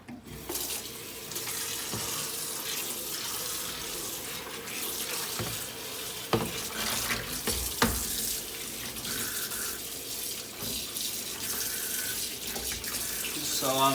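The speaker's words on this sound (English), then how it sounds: "So I'm starting off with the second rinse since there's still a little bit more soap suds." Tap water running steadily into a sink or basin while clothes are rinsed by hand, a constant close splashing flow with occasional sloshes and knocks, no voices.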